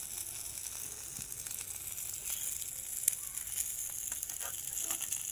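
Fish sizzles and fries steadily in a hot pan, a continuous crackling hiss close by with a few sharper pops and spatters, no voices over it.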